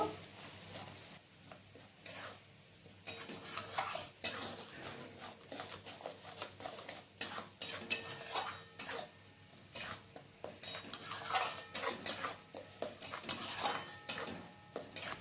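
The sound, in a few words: stirring mustard and poppy seed paste in a pan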